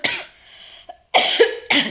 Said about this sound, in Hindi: खांसी अभी भी बहुत ज़्यादा है।